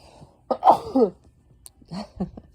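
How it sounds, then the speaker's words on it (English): A single loud, forceful sneeze with a sharp intake and burst, followed by a brief softer exhale and sniffle, close up and alone. "I gotta sneeze."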